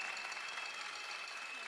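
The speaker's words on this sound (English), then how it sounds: "Let's give her a big round of applause" Audience applause at the Miss Grand USA 2023 pageant, a dense, even wash of clapping from a crowd, continuous and moderately distant with a faint steady tone underneath.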